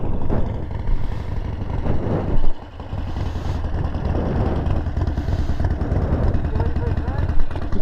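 During low-speed riding practice, a motorcycle engine runs with a close, continuous rumble that rises and falls, and at times someone talks over it.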